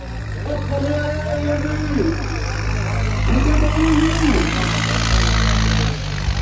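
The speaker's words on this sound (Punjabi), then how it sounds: "ਪਹਿਲਾ ਟਰੈਕਟਰ ਚੱਲਣ ਲੱਗਾ" A tractor engine runs at a village tractor contest with disc harrows, a loud, steady low rumble that swells slightly midway and carries on for several seconds, with faint voices and tonal calls over it.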